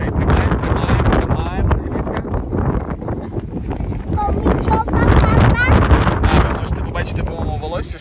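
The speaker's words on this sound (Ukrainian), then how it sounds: "щойно піднявся такий вітер, поривистий" Strong, gusty wind buffets the microphone at a sheltered beach in hilly terrain, a steady roaring rush with surging gusts, while people talk over it.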